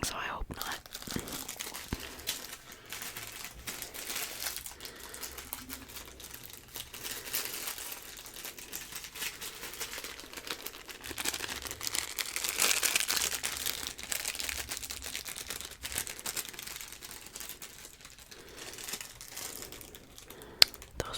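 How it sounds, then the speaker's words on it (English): Fortune cookie wrappers crinkle and crumple close up in a quiet ASMR setting, soft continuous crackling with brief louder bursts and faint whispering alongside. "Those were some loud crinkle sounds around your head."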